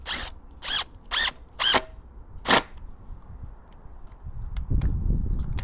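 A power drill drives screws into an antenna mast support bracket in five short, loud whirring bursts close by, then a few faint clicks and handling noises.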